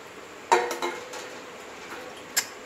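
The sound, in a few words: metal plate placed as a lid on a cooking pot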